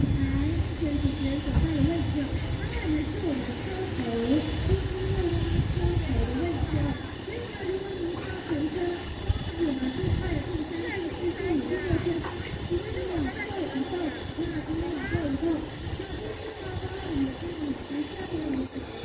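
Steam locomotive CK 768 at Changhua station lets off a continuous, broad hiss of steam that holds steady throughout, with faint voices murmuring in the background.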